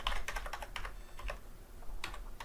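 Typing on a computer keyboard, with quick, fairly quiet clusters of key clicks in bursts over a low background hum.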